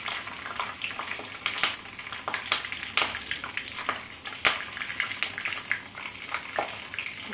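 Curry leaves sizzling in hot oil in a pan while cooking for bisi bele huliyanna, a steady close crackle and spit with sharp pops scattered throughout, no voices.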